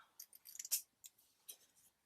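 Scissors cutting paper for a junk journal, a quick series of crisp snips with short pauses between them, close and quiet.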